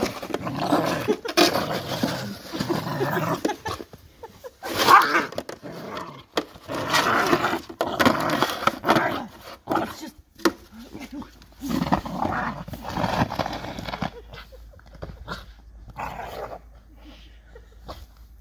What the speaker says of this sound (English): This is gonna be Arlo losing his mind when someone shovels his snow.